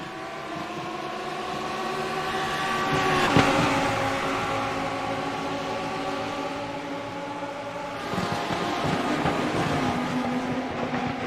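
Lamborghini Super Trofeo race cars roar past on the Autodromo José Carlos Pace circuit, a continuous loud engine drone with harmonic whine that swells to a peak near the middle, eases, then builds again as another car closes in.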